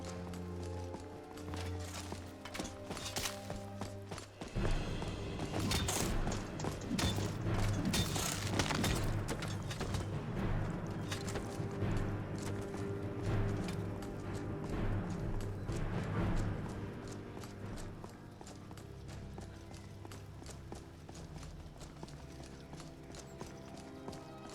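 Horse hooves clip-clop steadily in Skyrim, a fast, even gallop of repeated thuds heard close under dense game music and ambience, continuing for a long stretch.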